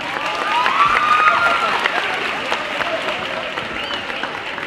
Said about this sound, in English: How about one more round of applause for these young men?